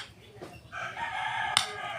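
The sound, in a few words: rooster crowing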